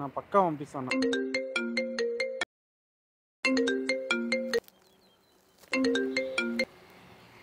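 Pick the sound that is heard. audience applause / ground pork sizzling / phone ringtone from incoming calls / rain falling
phone ringtone from incoming calls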